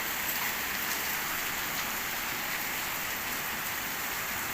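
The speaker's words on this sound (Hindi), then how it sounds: "अब तो काफ़ी तेज़ बारिश है।" Heavy early-morning rain with hail in Bahria Town, Rawalpindi, a dense, steady hiss of drops pelting surfaces, even and continuous throughout without voices.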